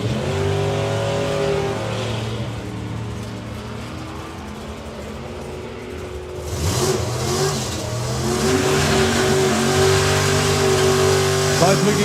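A drag racing car at an FIA European finals event roars down the strip, with a loud, rising engine tone that surges and climbs as a second car's engine layers in.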